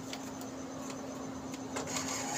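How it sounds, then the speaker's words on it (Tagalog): An Epson L1300 printer, just plugged in, moves its print head on the carriage motor, giving a steady mechanical whir with a constant hum and a few faint clicks, close by and alone. "para gumalaw yung printer head."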